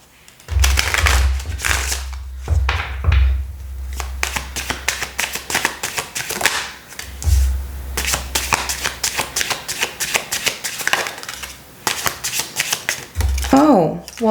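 Tarot cards being shuffled repeatedly in quick riffling bursts, close up, with a person talking over and between the shuffles.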